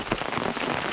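Hail and rain pelt down during a lightning storm on a Jeep overlanding trip. The impacts make a dense, steady, close patter of hard hits that lasts about a second.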